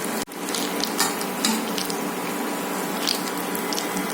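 Brinjal bajji fry in hot oil in a kadai, giving a steady, close crackling sizzle with sharp pops and spatters throughout.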